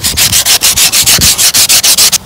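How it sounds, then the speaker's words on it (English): Coarse sandpaper rubbing rapidly back and forth over the hard outer shell of a dried gourd, about a dozen loud, evenly spaced rasping strokes in quick rhythm, close and unaccompanied by speech. "I'm going to start off with an aggressive grit sandpaper and then finish off with about a 220 grit"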